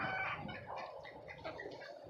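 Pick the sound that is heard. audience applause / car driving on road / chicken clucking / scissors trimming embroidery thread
chicken clucking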